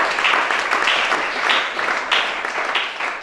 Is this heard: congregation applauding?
yes